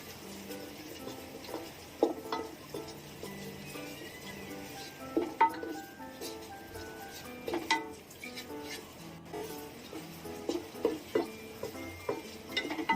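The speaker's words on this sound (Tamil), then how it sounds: "சேர்த்துட்டு நல்லா மிக்ஸ் பண்ணிக்கலாம்." Yogurt being stirred into a white vegetable biryani mixture in a pot, soft wet scraping and occasional clinks of a spoon against metal under a faint sizzle, quiet and close, with irregular knocks throughout.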